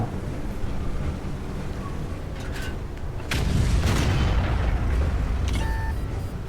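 Tank cannon fire in the World of Tanks video game: a heavy, sustained boom swells in partway through over a steady rumbling game background, with a few sharper transient shots scattered around it.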